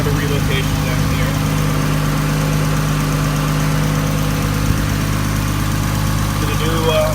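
A 1989 Toyota Supra fitted with a 2JZ engine idles steadily, a dense, constant low rumble with even harmonics holding for the whole stretch, close and loud, with faint background noise and no one talking.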